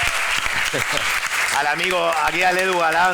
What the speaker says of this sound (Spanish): Un aplauso para Darío Danti, por favor.